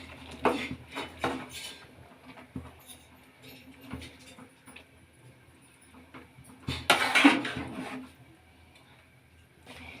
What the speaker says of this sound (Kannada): ಇದನ್ನು ಚೆನ್ನಾಗಿ ಮಿಕ್ಸ್ ಮಾಡೋಣ.